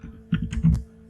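Quick keys being typed on a computer keyboard while entering code, a short burst of soft close clicks over a low steady hum.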